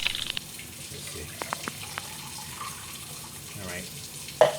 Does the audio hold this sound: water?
yes